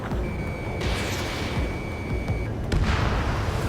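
Missile launch from a fighter jet in the combat flight game Ace Combat 7: a steady high lock-on tone sounds over engine rumble, broken by two sharp whooshing bursts as missiles fire, fairly quiet overall.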